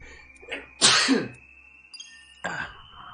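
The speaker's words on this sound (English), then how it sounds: "I'm gonna sneeze" A single loud sneeze bursts out, followed by a short sharp sound, with a faint steady tone and light background noise.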